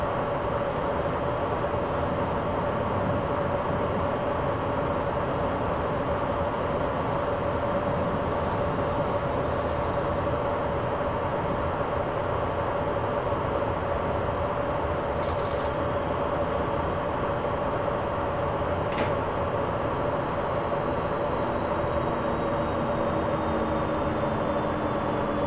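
A train in the Train Simulator 2021 video game rumbles steadily into a station on platform 5, braking gently, with a constant hum and rolling noise, a couple of brief high squeals near the end; no talking.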